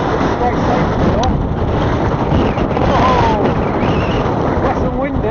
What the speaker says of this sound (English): I don't know if you can hear me because of the wind